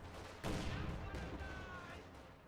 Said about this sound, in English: Stuka barrage goes off a little bit north of the IS-2